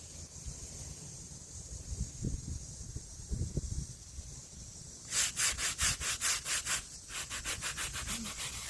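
A sandstone headstone base being scrubbed by hand, a soft gritty rub at first, then from about five seconds a run of quick, rhythmic back-and-forth strokes, close and fairly loud, with no talking.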